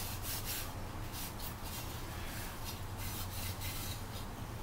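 Volkswagen engine valve parts scrubbed clean by hand, a steady, rapid back-and-forth rasping rub that is close and continuous throughout.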